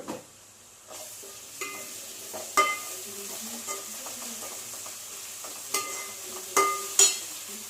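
Ginger garlic paste sizzles in a pan for chicken curry, a soft steady frying hiss broken by several sharp spoon stirs and scrapes against the pan.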